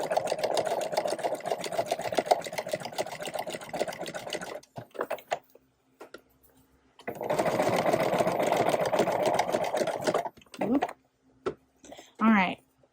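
A sewing machine stitches old denim jeans into a tote bag, running in two bursts of steady rapid stitching that stop and restart, with short pauses and small handling noises between.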